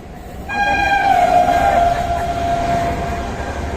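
A train stopped at a level crossing sounds its horn in one long, steady tone that slowly fades, with the rumble of rail cars underneath.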